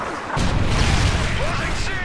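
A Predator missile strike in a Call of Duty–style shooter on the Bakaara map: a dull low boom at about a third of a second swells into a sustained rumbling roar of explosion and debris that holds steady to the end.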